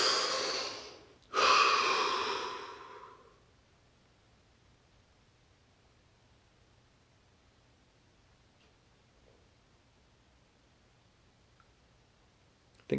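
Two deep breaths during a guided relaxation exercise, a long rushing breath followed by a second fuller one, close and clear, then near silence.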